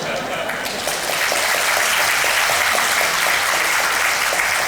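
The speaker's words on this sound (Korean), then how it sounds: "박수 치는 사람들은 출근하기 싫어하는 사람들." Staff audience at a district office talk event claps together, a dense, sustained round of applause that swells after the first second and holds steady, with some voices mixed in.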